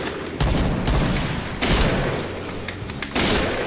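Rapid volleys of sniper rifle shots from the BORA-12 in a first-person shooter game, loud and close, with several sharp bursts punctuating a steady background of gunfire.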